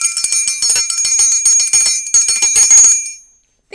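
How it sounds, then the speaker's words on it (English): A bicycle-style bell rings rapidly in a dense run of bright metallic dings for about three seconds, loud and close, then fades out. "Ring that bell."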